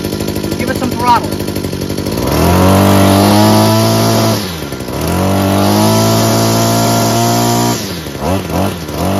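A Wild Badger 26cc gas weed trimmer with a 17-inch cut runs close and loud, revving up to full throttle in two long sustained pulls, with a brief dip between them and a sputter as it drops back down.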